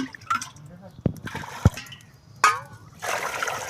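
Water is poured into a pot of oil-fried mixture to make rice-flour papad. A few splashy drips and clinks come first, then a sustained hissing pour near the end, with brief voice sounds in between.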